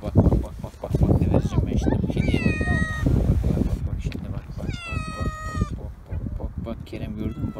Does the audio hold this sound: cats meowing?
yes